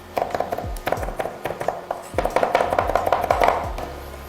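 A knife chops raw chicken on a cutting board while ayam goreng saus madu, honey-sauce fried chicken, is being prepared; close, sharp chops land in a steady, slightly uneven rhythm, each with a dull board thump.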